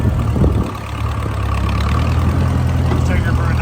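A rare Massey Ferguson 180LP tractor, revived after 35 years unused, runs at a steady low idle, its close, loud rumbling engine droning evenly throughout.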